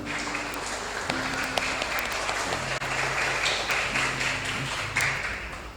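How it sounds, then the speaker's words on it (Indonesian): Sustained applause from a church congregation at a Christmas service, a dense, even wash of many hands clapping throughout, with faint tones and murmurs underneath. "Tepuk tangan untuk Tuhan."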